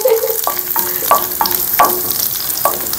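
Dry fruits roast in desi ghee in a pan over a low flame, a soft continuous sizzle broken by sharp, irregular clicks of a spoon scraping and tapping the pan, close by.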